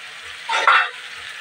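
Fish dropped into hot oil in a pan for a Bengali dish, a sudden loud sizzling burst rising over steady background frying hiss, close by.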